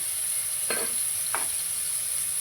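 Ginger garlic paste and whole spices sizzle in a pan for biryani, a steady hiss with two short scraping stirs partway through.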